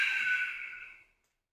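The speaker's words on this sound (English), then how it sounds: "So you're going to breathe in, then breathe out," A single long, breathy exhale during a breathing exercise, close and soft, fading out after about a second into silence.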